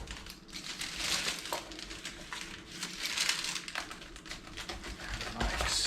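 An old pizza cutter rolls through a pizza, giving faint crunchy crackles and soft scraping strokes in a few separate passes, close and quiet.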